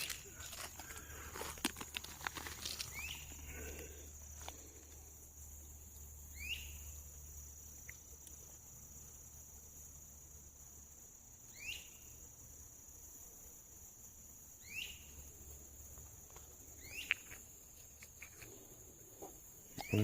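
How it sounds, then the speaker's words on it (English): Several short chirping bird calls spaced a few seconds apart, rising briefly over a steady insect buzz and faint rustling outdoors. "and that bird signaling."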